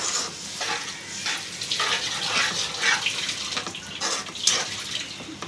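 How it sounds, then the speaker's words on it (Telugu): Water poured into a cooking pot on the stove for boiling mango, a continuous close splashing stream with uneven surges for a few seconds, no voices over it. "ఇప్పుడు వాటర్ వేసుకోవాలండి. వాటర్ వేసుకొని కొంచెంసేపు ఉడకబెట్టుకుందాం."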